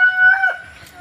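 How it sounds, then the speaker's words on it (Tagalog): A rooster's crow rings out briefly up close on a farm in rainy weather, with a few soft clucks from hens trailing after it. "mga alagang manok."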